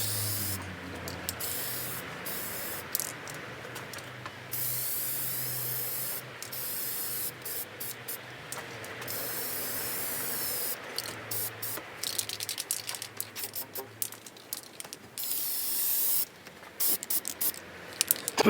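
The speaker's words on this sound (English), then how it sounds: "you should never shake the can between sprays" Aerosol spray can misting paint onto a bespoke bent curtain-pole tube: a long run of close, hissing bursts broken by brief pauses, steady and alone with no talk.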